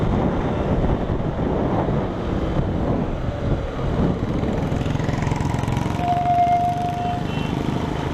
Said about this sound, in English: Throttle goes, the bike revs itself.